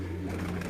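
Pigeons on a rooftop loft in Quetta, Balochistan coo in a steady, low, continuous murmur, close and fairly loud, with no voices.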